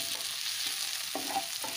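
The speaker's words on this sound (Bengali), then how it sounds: "পেঁয়াজ রসুনটা ভাজা হচ্ছে" Onion and garlic cloves frying in oil in a pan for a chicken dish, a steady close hiss with a few stirring scrapes, no voices.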